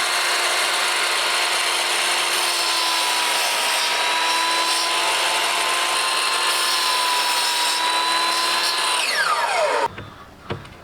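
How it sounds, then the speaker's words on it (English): A miter saw cuts wooden lip sections for the locker seats of a half cabin boat under restoration. A loud, steady whining buzz runs for about ten seconds, then the blade winds down with a falling tone and stops. "We used the miter saw to cut out the lip sections that would secure the locker seats."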